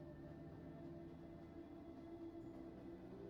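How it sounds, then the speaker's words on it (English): A steady low rumble of a train rolling along rails in a dark train car in Remember the Flowers, faint and continuous with a droning hum and no distinct clacks or voices. "I guess the train is moving now."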